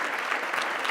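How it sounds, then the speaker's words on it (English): A short, steady burst of audience applause fills a plenary session hall at a national bike summit, with dense clapping from many hands. "Clap."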